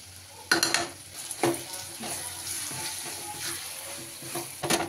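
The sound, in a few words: frying ginger and garlic in a pan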